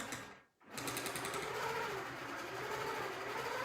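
A longarm quilting machine runs steadily, a continuous close mechanical whirr of fast stitching that starts after a brief pause and continues evenly with no talking.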